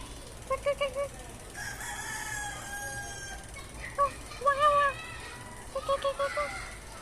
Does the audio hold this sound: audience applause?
no